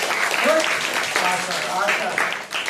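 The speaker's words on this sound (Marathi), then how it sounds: "तीन म्हणले की पोरांनो टाळी वाजवा" Children at a school magic show clap together on cue, a steady mass of hand claps across the hall, with voices overlapping throughout.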